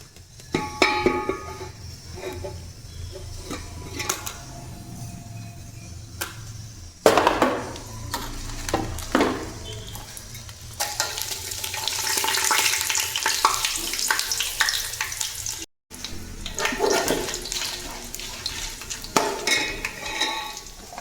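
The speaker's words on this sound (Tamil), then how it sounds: "எண்ணெய் சூடாயிருச்சு. இப்போ நம்ம இந்த பிரியாணி இலை இதெல்லாம் போட்டுடலாம்." Bay leaves and whole spices drop into hot oil for mutton biryani, bursting into a rising sizzle amid clattering pot and utensil knocks, loud and near, with a brief gap midway and no speech.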